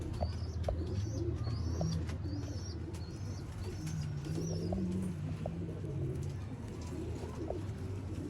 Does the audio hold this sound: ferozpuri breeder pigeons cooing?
yes